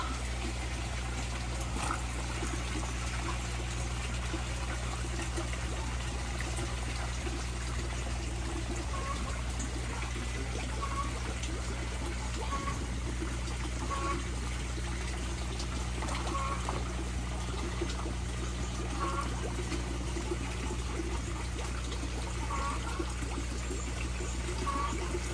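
Steady, continuous flow of falling water, an unbroken rushing trickle with a constant low rumble beneath it, no voices.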